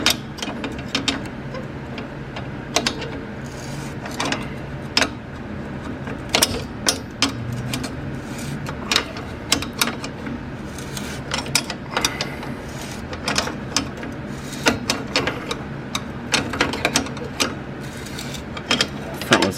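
A tool grips the adjuster teeth of a Tein Street Basis Z coilover on an FRS/BRZ/86 to raise the front ride height, giving repeated sharp metallic clicks and clanks in an irregular rhythm, close up over a low background hum.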